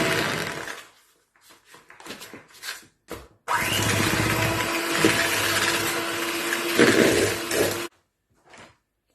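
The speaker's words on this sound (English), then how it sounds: "Now I am going to mix them together" Sugar is mixed with other ingredients for biscuit dough. After a few scattered clinks and knocks, a loud, steady motorized whir runs for about four seconds and then stops, with one small knock afterward.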